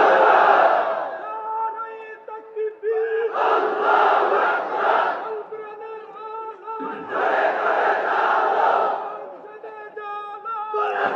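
A large outdoor crowd at a religious gathering roars in unison after a takbir call, two long swelling bursts of massed voices with a single voice leading between them.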